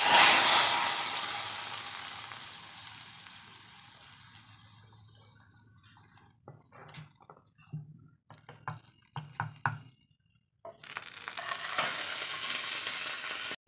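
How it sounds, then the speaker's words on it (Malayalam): Curry leaf tempering sizzles loudly, then fades as it is poured into onion sambar. Scattered clinks of stirring follow, and then running tap water. "കുറച്ച് കറിവേപ്പില ചേർത്ത് കൊടുക്കാം. താളിച്ച് ഒഴിച്ച് കൊടുക്കാം."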